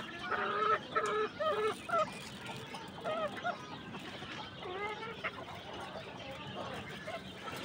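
Chickens on a poultry farm clucking while being fed rice, several close, repeated clucks and calls in short bursts over a steady background of flock noise.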